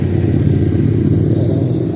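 Black big bike motorcycles ride past outside a McDonald's, their engines a steady, loud low rumble that holds evenly throughout with no voices over it.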